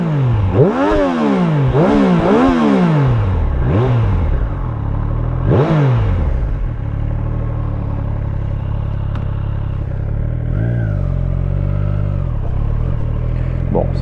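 A warm 2020 Triumph Street Triple with its stock exhaust is revved in several sharp blips close by, each rising and falling quickly, then settles into a steady idle.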